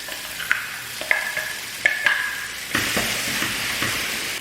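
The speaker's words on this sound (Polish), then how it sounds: "Na patelni rozstawiam troszeczkę masła i kiedy już się roztopi, to wrzucam cebulę." Onion drops into melted butter in a frying pan, sizzling close up with a bright hiss and several sharp stirring clicks and scrapes, then settling into a steady fry.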